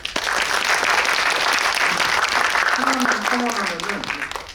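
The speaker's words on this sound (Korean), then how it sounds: "두 분에게 이 박수 부탁드립니다" Audience at a drama screening applauding two actors, a dense round of clapping throughout, with a voice speaking over the applause in its latter half.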